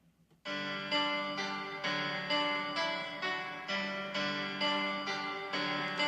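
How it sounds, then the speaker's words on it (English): Piano chords of a song are played at a moderate pace, each struck chord ringing out and decaying before the next, close and clear with no talking. "Okay, when it's played on piano."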